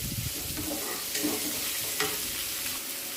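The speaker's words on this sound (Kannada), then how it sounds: "ಒಂದೆರಡು ಈರುಳ್ಳಿ ಕಟ್ ಮಾಡ್ಕೊಂಡಿದ್ದೀನಿ ಅದನ್ನು ಹಾಕ್ತಾಯಿದ್ದೀನಿ ಒಂಚೂರು ಫ್ರೈ ಮಾಡ್ಕೊಳ್ಳೋ ಈರುಳ್ಳಿ" Chopped onions fry in oil in a pan, giving a loud continuous hiss with a few sharper crackles and brief stirring scrapes over a short stretch.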